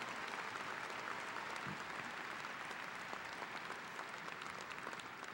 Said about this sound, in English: let's have a round of applause for them and their valor